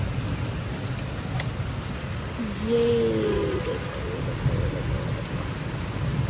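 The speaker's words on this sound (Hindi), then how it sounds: "एक एक बारिश हो रही है" Steady rain pours down close by with a dense hiss, while a voice speaks briefly in the middle.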